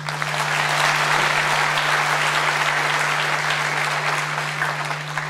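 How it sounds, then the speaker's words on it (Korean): Sustained applause from a crowd at a public hearing on founding a citizens' football club, steady and dense throughout, with a constant low electrical hum underneath. "다시 한번 큰 박수 부탁드립니다"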